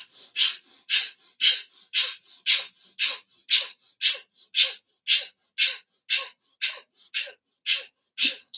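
Forceful yogic breathing, a close, steady series of about sixteen sharp rhythmic breaths at roughly two per second, each a loud, airy nasal burst.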